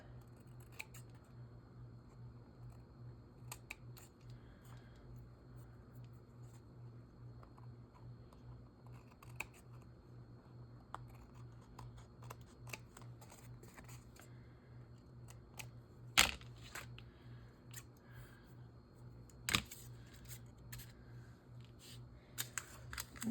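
Scissors trim paper for a junk journal, making a long run of soft, close snips and slicing clicks spread irregularly over a quiet background, with a couple of sharper cuts standing out.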